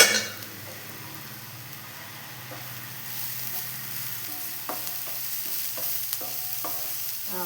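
Onions sauté in a pan with a continuous soft sizzle, joined by a few light stirring clinks and scrapes that grow slightly busier toward the end.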